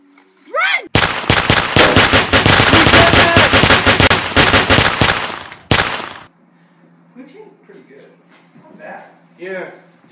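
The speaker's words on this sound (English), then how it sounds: "You hear gunshots?" A rapid burst of loud gunfire rattles off for several seconds, then stops abruptly, followed by quiet scattered voices and small noises.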